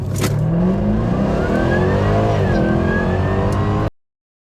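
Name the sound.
Jaguar F-Type SVR supercharger accelerating past the camera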